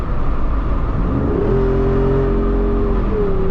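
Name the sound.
Jeep Wrangler Rubicon 392 HEMI engine and exhaust revving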